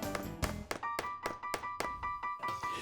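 A glued wooden dowel is tapped down into a drilled hole in wood, giving a run of sharp, evenly spaced knocks, close and fairly loud, each with a short ringing tail.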